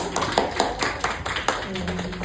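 A small studio audience on a talk show claps in a brief burst of distinct, fairly close hand claps, with someone speaking over the end.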